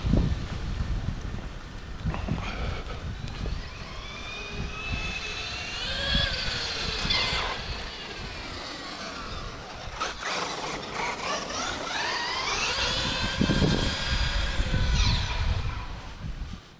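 Electric Mugen MBX8T RC buggy with an Orion 2100kv motor on 4S, driven at full throttle: a high motor whine that climbs and falls repeatedly as it speeds up and slows, with steady wind rumble and no talking.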